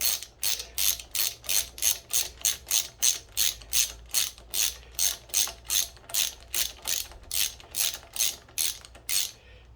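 A ratchet tightens the nut on a billet aluminum brake or clutch lever of a Kawasaki Z400, giving about twenty even, closely spaced clicking strokes in a steady rhythm with no voices.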